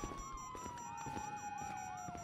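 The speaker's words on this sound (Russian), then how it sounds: "Фок, слышите, сирены?" Police sirens in the video game GTA 5 wail with a steady rising-and-falling sweep, moderately distant and continuous, with no one talking over them.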